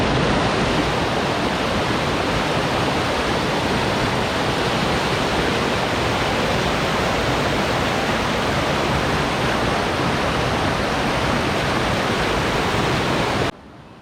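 A waterfall roars nearby in a constant, dense broadband rush that stays loud and unchanging without talk, then cuts off abruptly at the very end.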